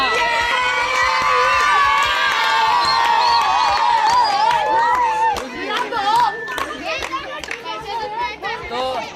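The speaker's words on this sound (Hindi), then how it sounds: "इनके लिए बहुत बहुत तालियां" A lively crowd, largely children, cheers and shouts loudly at a luck-based prize game, with scattered clapping and excited voices overlapping throughout.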